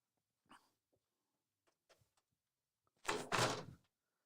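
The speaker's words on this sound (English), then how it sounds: "Let me actually close this door." A door being closed indoors: a few faint shuffles and light knocks, then one loud close thud with a short rattle near the end.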